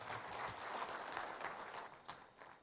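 An audience at an event in Kenya applauds, a soft, distant, continuous patter of many hands clapping that fades slightly toward the end.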